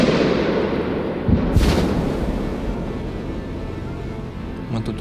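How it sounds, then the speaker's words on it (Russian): Dull, booming artillery blasts echo continuously among trees, with a couple of heavier thuds standing out against a steady low roar of distant bombardment. "канонада не прекращается"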